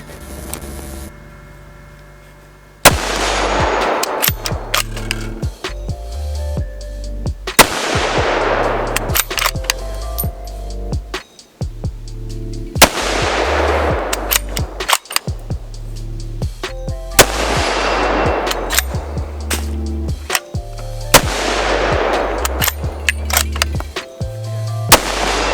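Thompson/Center LRR .308 precision rifle fired outdoors at a range past 100 yards, five loud, sharp shots spaced several seconds apart, each ringing out with a long echoing tail and no talking.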